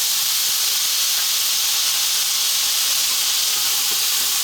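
Lemon or lime juice hits a hot pan of spicy Lebanese potatoes with coriander, giving a loud, continuous steamy hiss that holds steady throughout without talk.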